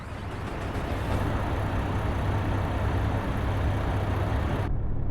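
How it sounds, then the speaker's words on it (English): A heavy truck engine in the American Truck Simulator game cranks and starts, heard from outside the cab. A steady, loud, low diesel rumble runs for several seconds, then cuts off abruptly near the end. "Let's go ahead and start the truck up here."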